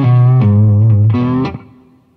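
Electric guitar through an Egnater amp's overdrive channel, at moderate gain, plays two sustained, gritty chords that ring out loudly, then decay into fading distortion.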